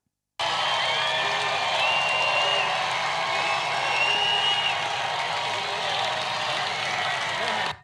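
Large rally crowd applauding and cheering during a Trump speech, a steady roar of clapping with whoops that holds for several seconds at a distance, then cuts off abruptly.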